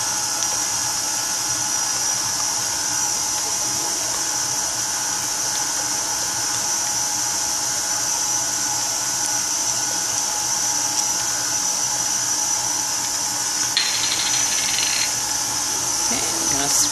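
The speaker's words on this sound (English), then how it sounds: "we're going to stop the mixer" An electric mixer beats low carb, no sugar added cheesecake batter in a bowl, giving a loud, steady, high-pitched whir that runs throughout with a brief change near the end, while a person talks over it.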